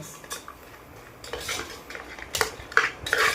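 Dry gobi (cauliflower) being stirred in a pan for street-style gobi rice makes irregular metallic scraping and clattering of a utensil against the pan, close and growing busier toward the end.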